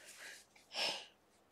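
A single short sneeze, quiet and close, with a faint breath before it, in an otherwise silent room.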